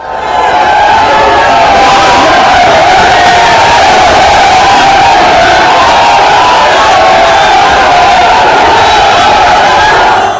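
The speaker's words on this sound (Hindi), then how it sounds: "हजारों की भीड़ जुटी थी।" A dense crowd of thousands at a religious procession in Vrindavan roars and cheers continuously, loud and close, with overlapping shouts and no break across the whole stretch.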